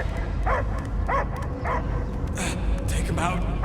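In the video game Marvel's Guardians of the Galaxy, a dog gives several short, yappy barks in rhythmic bursts over a loud, rumbling game soundscape, with character voices talking close by.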